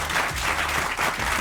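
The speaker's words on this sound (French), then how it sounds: "Il y a Olivier de Kersauzon qui est là, qu'on peut applaudir d'ailleurs tout de suite." Studio audience applauding steadily on a French radio talk show, a dense clatter of many hands held at an even, fairly loud level for the whole moment, with no voices over it.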